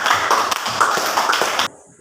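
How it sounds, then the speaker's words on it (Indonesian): Students in a high school civics class at SMA Negeri 1 Paberiwai clap for group 2, a brisk burst of close handclaps that stops abruptly near the end. "tepuk tangan untuk kelompok 2"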